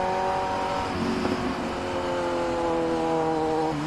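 A Kawasaki Z900 motorcycle engine revs loudly and close, a steady rising drone with harmonic whine that holds for several seconds, with no talk over it.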